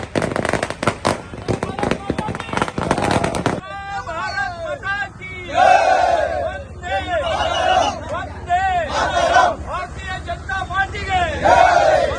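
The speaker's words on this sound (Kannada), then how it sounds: "ಬಿಜೆಪಿ ಹಾಗೂ ಪ್ರಧಾನಮಂತ್ರಿ ನರೇಂದ್ರ ಮೋದಿ ಪರ ಘೋಷಣೆಗಳನ್ನು ಕೂಗಿದ್ರು" BJP supporters gathered at Shamsuddin Circle in Bhatkal on a Sunday evening chant slogans for the party and Narendra Modi. A dense burst of crackling firecrackers opens, then a loud crowd chants in rhythmic waves up close.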